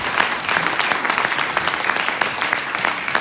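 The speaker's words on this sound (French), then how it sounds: "je pense qu'on peut l'applaudir très fort." An audience at a hypnosis stage show in Carantec, 2019, breaks into loud, dense applause. Many hands clap in a steady, unbroken wash from start to finish, with no voices over it.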